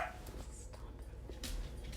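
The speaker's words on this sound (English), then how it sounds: "My dogs are very hyper today. They always wait till I do a podcast to be talkative." Hyper pet dogs yip and whimper faintly in the background of an indoor podcast recording, brief high cries rising over a steady low room hum.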